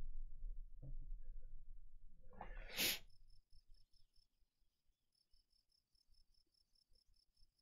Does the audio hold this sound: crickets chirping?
yes